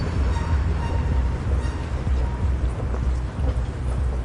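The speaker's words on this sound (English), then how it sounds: "near a metro station." Heavy low rumble of metro trains fills a humid summer station among concrete and escalators, a loud, continuous roar with rattling and grinding throughout.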